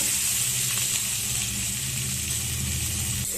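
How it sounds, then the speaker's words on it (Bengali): Prawns crackling and sizzling in hot oil, a constant close hiss with a low hum beneath, no talking. "চিংড়ি মাছটা ভাজা বসিয়ে দিয়েছি চিংড়ি মাছটা ভাজা হোক"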